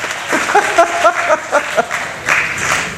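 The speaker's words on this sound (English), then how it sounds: "And give her a round of applause." Audience applause at a Rotary Club peace conference in Miami: a brief burst of clapping from a crowd of moderate size, with scattered claps and some overlapping voices in the hall.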